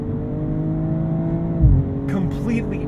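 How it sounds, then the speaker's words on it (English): A 2022 BMW M240i xDrive coupe's inline-six drones steadily at speed, then dips in pitch as the driver lifts, with a brief thump and a short tire-like squeal near the end. "And what an engine. BMW and the Inline 6"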